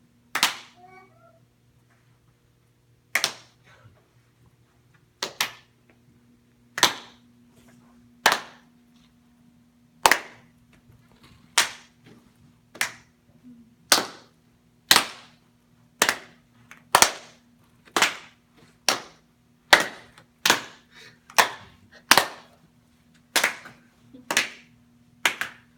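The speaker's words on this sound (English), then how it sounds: "we're gonna look at each other and we're gonna try to clap at the same time" Two people clap in a Pass the Clap game, trading single sharp claps with pauses that shorten as the pace speeds up to a quick, regular rhythm, with a faint steady hum underneath.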